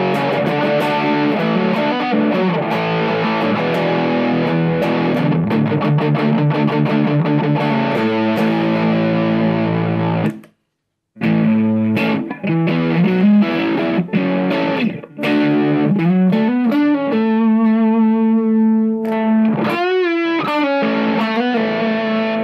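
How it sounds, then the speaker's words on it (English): Electric guitar through a Sir Riot distortion pedal on a pedalboard, playing loud, dense distorted chords and riffs that cut to a brief silence midway, then resume with sustained notes; no talking. "Next in the chain is the Sir Riot, which is my distortion sound"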